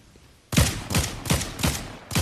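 Gunfire in the video game Fortnite: five loud, rapid rifle shots in a steady rhythm after half a second of quiet, each with a sharp crack and a short ringing tail.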